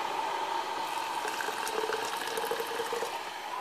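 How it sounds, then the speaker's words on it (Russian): Boiling water is poured steadily into a glass jar to make a superphosphate extract, a soft, continuous splashing fill that goes on without pause and with no talking. "Мы просто наливаем горячей воды прям кипяток."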